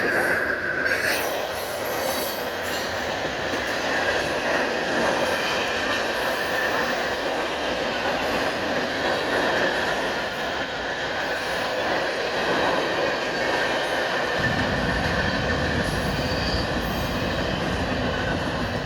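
A southbound CSX mixed freight train passes a railroad crossing on Pennsylvania Avenue in Delaware, with a steady, loud rumble of rolling cars and wheels that continues throughout and deepens near the end.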